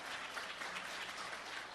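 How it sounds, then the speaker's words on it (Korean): A Sunday worship congregation claps to welcome visiting family guests, a brief, faint, even wash of applause with no voices over it. "여러분 박수로 한번 환영해 주시고"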